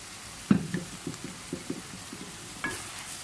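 A tablespoon of oil goes into a pan of tomatoes, a sharp clatter followed by a quiet sizzle and a few light knocks of utensils.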